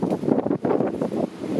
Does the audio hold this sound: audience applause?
no